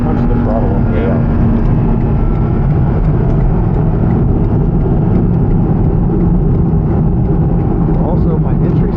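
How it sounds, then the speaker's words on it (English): A Porsche GT4 RS engine roars loud and close as it accelerates hard out of a corner on a track, a dense continuous drone with wind and road noise and a person talking over it. "When I got the car pointed, I could punch the throttle on the way out."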